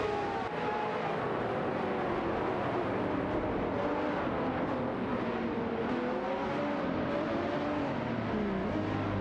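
Seat Cupra GT and Aston Martin DBR S9 race cars in a video game race give off a steady, continuous engine drone with shifting pitched tones, moderate and unbroken.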